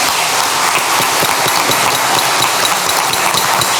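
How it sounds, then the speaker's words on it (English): A round of applause at a school district board meeting, dense, steady clapping from a crowd that holds an even, loud wash for nearly four seconds, with no talking over it. "Yes, a round of applause."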